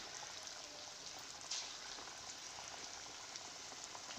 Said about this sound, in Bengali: আর এখন আমি পকোড়াগুলোকে ভেজে নেব, মাংসগুলোকে।